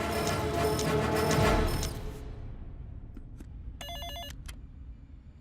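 A telephone bell rings in short repeated bursts, loud at first and then fainter and farther away, against a low background murmur with no speech.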